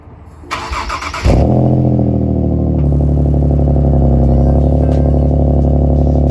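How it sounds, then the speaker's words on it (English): A Nissan 370Z Nismo with its stock exhaust cold-starts: starter cranking for about a second, then the engine catches with a loud bark and settles into a steady, deep, rumbling high idle, close and without talk. "Last cold start for the boys on this exhaust."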